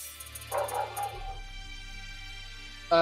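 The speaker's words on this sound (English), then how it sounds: "Sorry about the dog you're likely hearing in the background." A female dog yips and barks in the background, a short cluster of whiny barks early on followed by another bark at the end, mixed under game music and sound effects.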